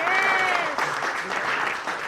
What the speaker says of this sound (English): So please, just give a warm round of applause once again.